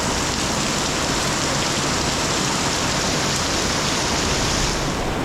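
Heavy rain pours onto a street on Rua de Sanches de Miranda in Macau, a dense, steady roar of droplets hitting the ground that fills the whole stretch with no voices.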